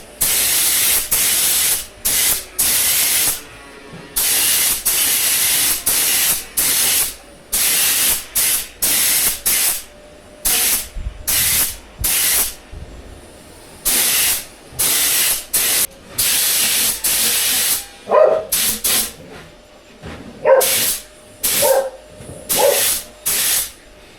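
Repeated bursts of aerosol spray hiss loudly in short and long blasts with brief pauses between, close up, with a few faint clicks near the end.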